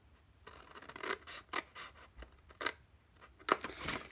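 Scissors cut card for a flip-top craft gift box, a series of close, crisp snipping and scraping strokes in an irregular rhythm, with short pauses between cuts in a quiet room.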